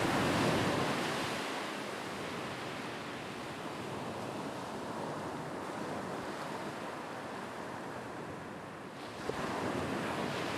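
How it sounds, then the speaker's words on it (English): Sea waves roll in and break on a sandy shore, a continuous wash of surf that swells and recedes, with wind noise across the microphone and no voices. "Each wave flows in, breaks on the shore,"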